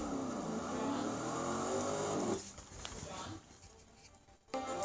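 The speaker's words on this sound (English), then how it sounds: "I love the noise of this engine." A race car engine in the Forza 6 driving game, a Corvette in a Le Mans setting, revs with a rising, whining tone for a couple of seconds, then fades under softer game noise and a brief burst near the end.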